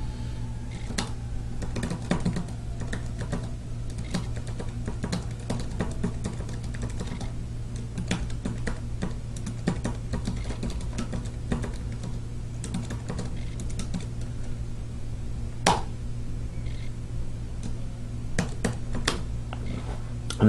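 Fast typing on a Bluetooth keyboard paired with an iPhone, a dense run of light key clicks at close range over a steady low hum, continuing throughout with no speech.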